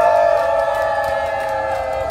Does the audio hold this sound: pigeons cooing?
no